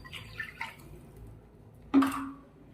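Water poured into a pan for semiya upma: a quiet room, then a single short, bright splash of liquid near the end, with a few faint drips before it.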